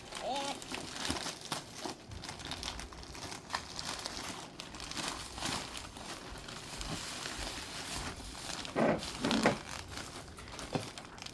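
Gift wrapping paper being ripped and crumpled open, a steady crinkling rustle with a few sharper tearing bursts near the end, while people talk nearby.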